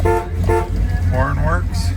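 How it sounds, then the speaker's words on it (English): Horn on a 1964 Chevrolet Malibu SS sounds in a couple of short blasts over a steady engine rumble, with someone talking through and around the honks. "Horn works."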